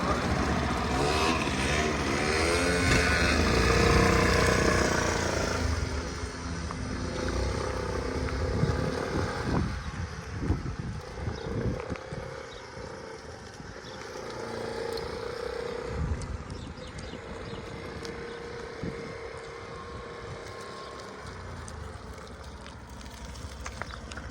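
A new 2023 Suzuki Burgman Street EX 125 scooter engine runs nearby with a loud, steady hum for about six seconds, then drops to a quieter, uneven rumble.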